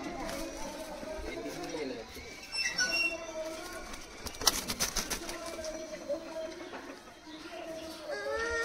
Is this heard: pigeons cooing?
yes